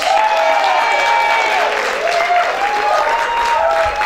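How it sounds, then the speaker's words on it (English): Audience applause for a performer at a variety show talent final, a steady dense wash of clapping with a held tone running over it and no break throughout. "please you make some noise for Wayne Jacobs"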